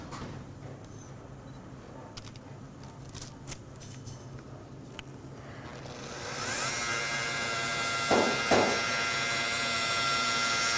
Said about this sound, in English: compound as it's whipped up by the machine, which we normally turn at about 900 to 1000 RPM